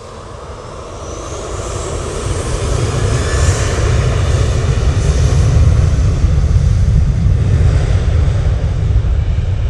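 A fixed-wing airliner on its landing approach at Manchester Airport, a steady broad engine roar that swells and holds loud and close throughout, with wind rumble underneath and no talking.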